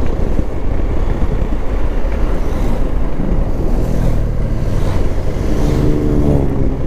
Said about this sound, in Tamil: சூப்பர் பைக் கைஸ் ஆகிறாங்க, சூப்பர் பைக் கைஸ். கிருன்னு போகிறாங்க, கிருன்னு இந்த ரோட்டில்.